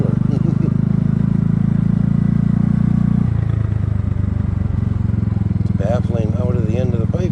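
A Kymco People 250 scooter idles on a cold night, its exhaust droning steadily out of the muffler, loud and close, dropping in pitch partway through while a voice talks over it.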